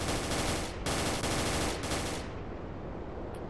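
Sustained automatic gunfire in S.T.A.L.K.E.R.: Clear Sky on the bridge to Limansk roars loud and dense for about two seconds, with brief gaps between bursts, then fades into a quieter tail.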